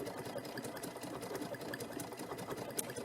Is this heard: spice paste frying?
no